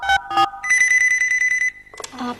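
A telephone rings loudly nearby, a bright electronic ringtone that repeats tonal bursts and sustains for a moment before stopping.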